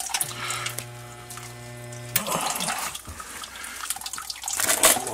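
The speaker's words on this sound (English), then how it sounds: "Michael's pouring the Bore Saver directly into the sump pump pit as well" Bore Saver iron ochre remover liquid poured into a sump pump pit, a steady watery stream with an electric hum in the first two seconds, then splashing and trickling that grows louder toward the end.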